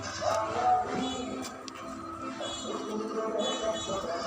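A goat bleats in a wavering, drawn-out cry up close at a goat sale, followed by more bleating amid background murmur.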